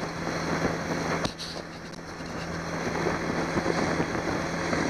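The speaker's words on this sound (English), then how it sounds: "Johnson 90 horsepower, kicking and running." A Johnson 90 horsepower outboard motor runs steadily on a boat cruising past cherry blossoms in Washington DC, a continuous close engine drone with a low hum, mixed with wind buffeting the microphone and water rush.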